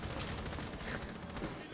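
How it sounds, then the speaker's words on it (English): Gunfire from a Rainbow Six Siege esports match, a dense, continuous fusillade of rapid shots through the whole stretch, with caster talk running underneath the chaotic exchange. "Aquino's just running through the gunfire."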